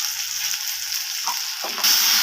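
Spices and garlic paste sizzle in hot oil for a homemade rohu fish curry with eggplant and potato, giving a steady close hiss that grows louder near the end as stirring continues.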